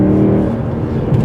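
A BMW M140i or W204 Mercedes C63 AMG engine pulls hard in third gear toward 4,500 rpm, giving a loud, close, throaty drone for a brief moment with no talking.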